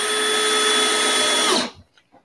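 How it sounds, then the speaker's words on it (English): Cordless drill on a low torque setting driving screws while an amp kit is assembled: a steady high motor whine with a tonal hum that cuts off sharply after about one and a half seconds, followed by a couple of faint clicks. "So I've got my drill set on a low torque setting so I don't overdrive these screws."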